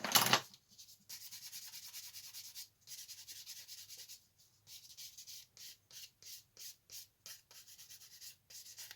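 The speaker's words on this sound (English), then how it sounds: "This bit needs a fair bit of sanding down." Rough scraping of sandpaper on a hard plastic part of a 1:35 Tiger 1 tank model kit, one long burst followed by a series of quick, rhythmic back-and-forth strokes, close and fairly quiet.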